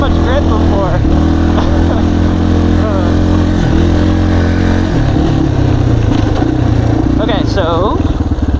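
Dirt bike engine droning steadily and loud while riding a trail, with gear shifts and brief revs breaking the constant chug, close to the rider.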